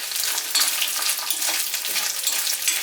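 Grated coconut frying in a pan over low heat gives a soft, steady sizzle with faint scraping stirs, close by and alone.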